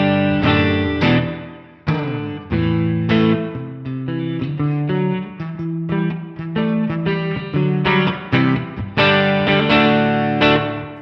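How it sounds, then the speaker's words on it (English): Electric guitar played through a Valeton GP-5 with the reverb cranked high, distorted chords and picked notes ringing and washing into a long, loud tail, continuous with brief gaps between phrases. "We're going to crank the reverb."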